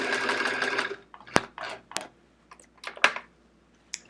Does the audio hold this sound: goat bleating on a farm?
no